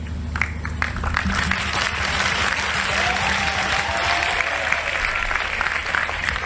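Steady applause from an audience at a Bhagwat Katha religious discourse, many hands clapping continuously at moderate volume throughout.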